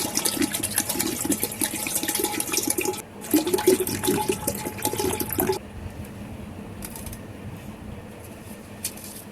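Bottled water being poured into a cooking pot to be boiled down for a kasundi mustard sauce: a loud, splashing gush for about five seconds, then a much quieter trickle against faint room noise.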